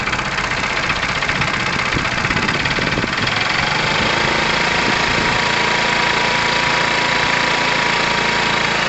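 The engine of a Tamoretti retro car idles with a steady rough vibrating drone and a slightly uneven, revving edge, close and continuous throughout, with no voices.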